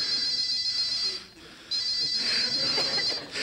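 Telephone ringing in a home, a repeated electronic ringtone sounding loud and close, pausing briefly mid-ring before starting again.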